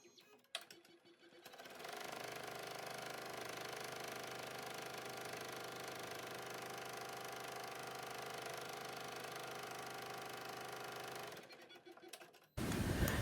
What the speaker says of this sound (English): we are going to sew the buttonhole for where the nose wire will go